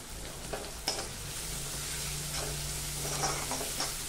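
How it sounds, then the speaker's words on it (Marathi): Onions frying in a tempering pan for a tomato-onion bhaji, stirred with a utensil: a steady close sizzle broken by scraping stirs and a few sharp clinks, no voices. "हे हलवून घ्यायचं छान"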